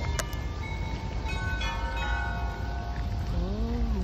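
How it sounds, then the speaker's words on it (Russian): A church bell at St. Michael's Golden-Domed Monastery in Kyiv rings at night, its sustained metallic partials humming steadily after an early strike, over a low background rumble of the city. "а это специально для нас с вами колокол"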